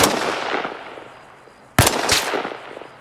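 A gunshot in the video game Arma Reforger, a single sharp loud crack with a short echoing tail, following an earlier fading blast, followed by a second quieter report.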